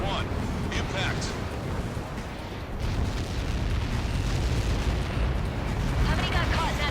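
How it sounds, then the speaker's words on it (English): A huge in-game blast in Ace Combat 7 roars as a continuous, dense low rumble with crackling bursts for the whole stretch, loud and sustained beneath radio chatter voices. "How many got caught in that explosion?"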